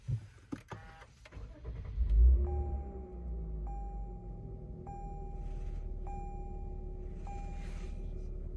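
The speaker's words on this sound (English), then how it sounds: "Let's go ahead and start the vehicle." A 2022 Lexus IS350 F Sport starts with a brief cranking rumble, then settles into a steady, low idle while a chime sounds at regular intervals.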